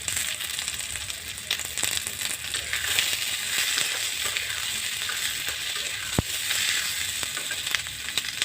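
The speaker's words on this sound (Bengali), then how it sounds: "দিয়ে দিচ্ছি ক্যাপসিকাম, যেটাকে আমি ছোটো ছোটো করে টুকরো করে কেটে রেখেছি।" Chopped capsicum sizzles in hot oil while frying for restaurant-style chilli fish, a steady bright hiss with a single sharp click partway through and no talking.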